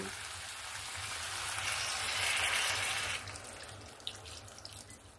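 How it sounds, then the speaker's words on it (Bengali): Water poured from a container into a pot of simmering jackfruit and prawn curry with potatoes, a steady broadband splashing stream that swells for about three seconds and then eases into a softer trickle and a few drips. "এবার আমি পরিমাণ মতো জল দিয়ে দেব।"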